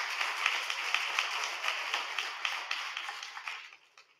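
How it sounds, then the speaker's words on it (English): A church congregation applauds their preacher, Reverend Tina Guynn, with a steady, dense round of clapping that fills the room before thinning and fading out toward the end. "why don't we give our preacher, Reverend Tina Guynn, a hand of applause for her."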